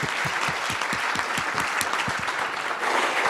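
A conference audience at a smart-cities and sport event gives steady, full applause, with dense clapping alongside soft, regular low thumps throughout.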